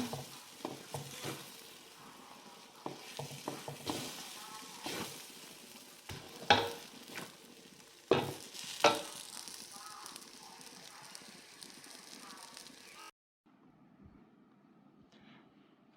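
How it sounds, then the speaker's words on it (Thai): Khanom tian filling stir-fried slowly over low heat, a soft continuous sizzle broken by irregular spatula scrapes and knocks against the pan, a few sharper clacks midway, ending abruptly in a faint quiet tail; near, no clear talk. "แล้วค่อยๆมาค่อยมาผัดไส้กันค่อยๆ ผัดนะไฟอ่อนๆนะคะ"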